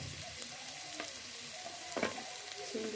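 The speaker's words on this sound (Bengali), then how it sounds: "দিয়ে ভালো করে নেড়ে চেড়ে ভেজে নেব" Flat beans frying in oil with onion, garlic and black cumin, stirred around a pan: a steady soft sizzle with a few brief scraping knocks, quiet and close, no talking.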